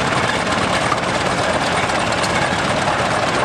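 An antique Avery 40-80 prairie tractor engine runs steadily at a steam and gas engine show, a loud continuous rumbling drone with no voices over it.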